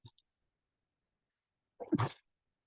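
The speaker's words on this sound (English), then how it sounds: "I'm sorry, I'm about to sneeze." During a lecture, a single sharp sneeze bursts out after a moment of near silence, preceded by a tiny faint sound.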